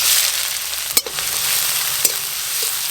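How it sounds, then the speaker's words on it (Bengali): Chopped onions fry in hot mustard oil in a kadai, giving a steady close sizzle with two sharp clatters, one near the middle and one later. "তেল গরম হয়ে গেছে, এবার পেঁয়াজ কুচি দেব।"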